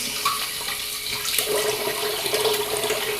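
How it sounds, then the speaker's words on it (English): Water runs steadily from a sink tap while a face is rinsed, a continuous hiss with light splashing that grows fuller halfway through, alone and close. "I'm going to rinse my face"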